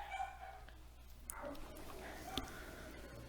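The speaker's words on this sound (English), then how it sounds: "My dogs are barking, I don't know how much of that you can hear." Faint dogs bark and whimper somewhere in a home, a few scattered yips and barks buried low under room noise.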